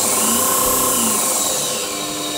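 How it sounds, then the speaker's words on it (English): A small variable-speed belt grinder in a home workshop, used to sharpen lawn tractor mower blades, runs with a steady high whine and motor hum, close and loud, with no pauses and no talk. "This is my little grinder."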